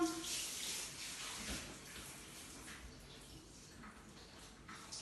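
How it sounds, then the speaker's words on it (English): Water rinsing down a shower during soap scum cleaning, a faint steady splashing and trickle with a brief soft knock near the start. "give that one a quick rinse down"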